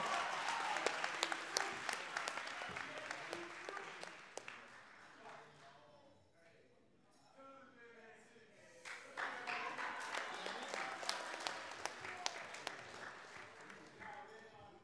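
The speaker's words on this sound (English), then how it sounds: "let's give our rising seniors a round of applause" Graduation ceremony audience clapping for rising seniors, a dense crackle of many hands that fades into a lull midway, then swells back up and carries on steadily, heard from within a large hall.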